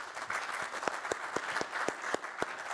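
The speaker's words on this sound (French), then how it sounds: "Merci messieurs, on peut vous applaudir également." A conference audience applauds after a question session, dense steady clapping with a few sharper individual claps standing out, heard at a distance and fairly soft.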